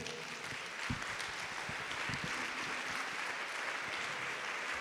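A church congregation claps during a sermon on fasting. The applause is steady and moderately loud, fills the whole stretch with dense overlapping claps, and a few louder individual claps stand out.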